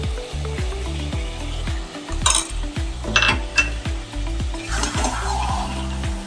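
Spice paste and ground prawns sautéing in a pan for a prawn and chicken dish, with steady sizzling and repeated metallic clinks of a spatula stirring against the pan close by.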